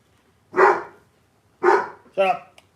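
A dog gives three distinct barks, each fairly loud and close, spaced about a second apart in a quiet room, the last one shorter and higher.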